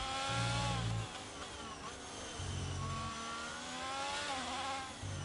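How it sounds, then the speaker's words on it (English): Racing car engines in a video game whine and rev continuously at the Brazilian Grand Prix, pitch rising and falling as gears shift, with a low rumble pulsing underneath. "I love to listen to, to just the sounds of the cars"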